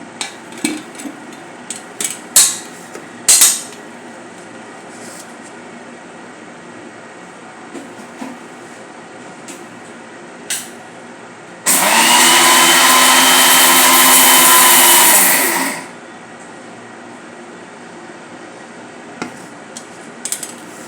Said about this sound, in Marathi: आता हे हलकेसे ग्राइंड करून घेऊया.